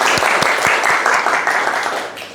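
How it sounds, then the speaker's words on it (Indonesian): A classroom of students claps for a classmate after her introduction, a loud, close burst of brisk hand claps that tapers off near the end. "Kasih Siska tepuk tangan dong."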